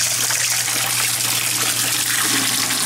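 Water gushes steadily from a washing machine drain hose into a bucket, a loud, continuous splashing rush throughout with a low hum underneath; the machine shows a suds and F21 error.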